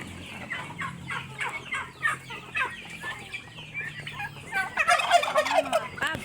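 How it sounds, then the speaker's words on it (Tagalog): Several turkeys in an enclosure gobble in rapid, warbling bursts, with clucking fowl mixed in; the calling grows louder and busier toward the end. "ito po ay mga pabo. May pabo din po."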